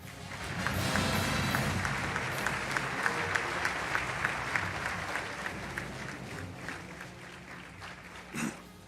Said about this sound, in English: Thank you for your warm applause.